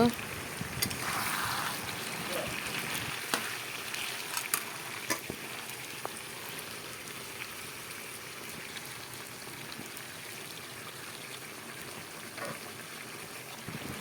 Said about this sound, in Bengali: এখন মটনটাকে তেলে ঢেলে দেওয়া হবে